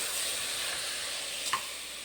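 A steady, quiet sizzle of food sautéing in a pan, with a faint scrape of stirring partway through and no voices.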